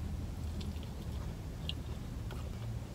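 Someone chews Buffalo Wild Wings breaded cauliflower wings with softened breading, producing quiet, close, moist chewing and a few light crunchy bites, with no talking.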